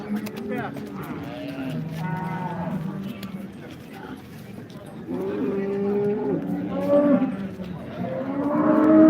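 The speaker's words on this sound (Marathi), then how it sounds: "नागाच्या फणीसारखे नुसते फुसकारून म्हैस आहे" Repeated deep moos from a restless water buffalo at a crowded cattle market in Modnimb, several drawn-out calls in a row, close and loud, with market noise faintly behind.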